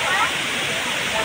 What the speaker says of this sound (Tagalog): Diyan po dumadaan yung mga tubig nila dun sa falls ang bumabagsak dun